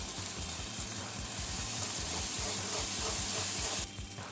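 Ground spices sizzle in a pan with fried garlic, ginger paste and a splash of water for chicken bhuna: a steady close hiss with soft stirring scrapes, easing slightly near the end.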